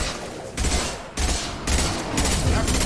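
Assault rifle fire in Mass Effect 2 Legendary Edition, with loud, sustained rapid bursts filling the clip and brief gaps between volleys.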